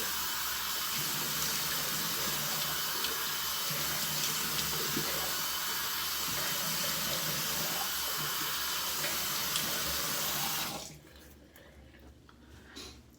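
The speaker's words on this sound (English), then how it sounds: "I'm gonna start by splashing some water on my face." A bathroom tap runs in a steady, loud rush with faint splashes as water is scooped onto the face before a shave, then cuts off, leaving quiet drips.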